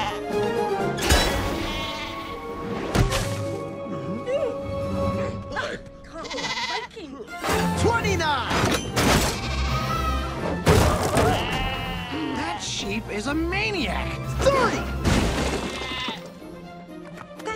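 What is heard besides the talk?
sheep bleating as it is launched, animated Dragons show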